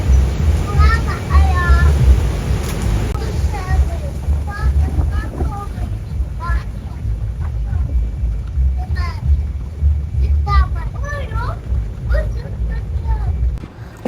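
Gusty, cold wind at a Sharm El Sheikh hotel in Egypt buffets the microphone with a heavy, low rumble throughout while people talk nearby.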